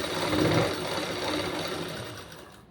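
A computer-work sewing machine runs a short continuous stitching burst through folded fabric, with a steady mechanical whir close by that fades out at the end.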